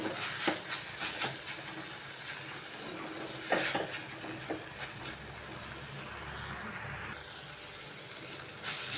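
Drumstick leaves sauté in a hot pan with a steady, close sizzling hiss, broken by several sharp scraping stirs of the spoon and no talking.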